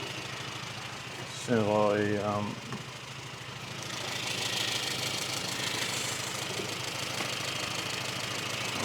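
A Mini or Riley Elf engine on a tuning session, running steadily with a knocking, mid-pitched hum throughout, rising slightly in the second half; someone speaks briefly near the start.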